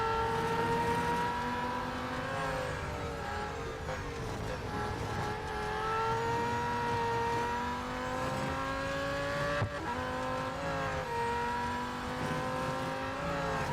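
A McLaren Solus GT race car in the Real Racing 3 video game, its engine whining steadily at high revs with pitch sweeping up and down through gear changes, loud and continuous with no talk.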